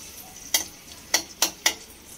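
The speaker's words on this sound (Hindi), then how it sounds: "ये मतलब किशमिश को फ्राई।" Raisins frying in a tablespoon of ghee in a kadhai over a medium flame, heard as a faint, steady sizzle broken by four sharp metallic clinks of a spoon against the pan.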